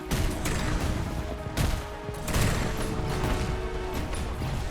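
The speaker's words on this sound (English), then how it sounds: "it is shotgun time" Heavy shotgun blasts ring out in the fast-paced sci-fi shooter game Afterblast, loud repeated booms layered over a dense, continuous wash of combat noise and explosions.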